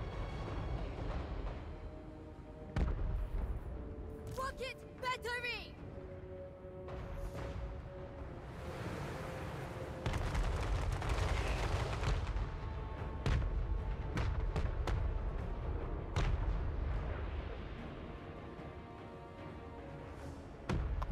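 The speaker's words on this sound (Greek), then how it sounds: "Τα κανόνια βομβαρδίζουν και καλά κάνουν." Cannons bombard in the battle game Total War: Warhammer 3, scattered heavy booms and thuds landing irregularly amid busy battle noise and distant clatter.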